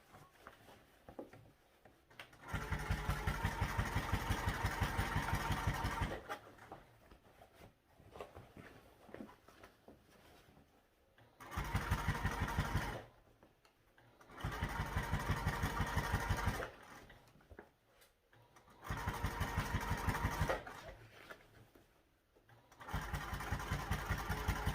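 A sewing machine stitches a seam on a garment in repeated bursts of rapid, even whirring several seconds long, separated by quiet pauses, fairly faint with no talk.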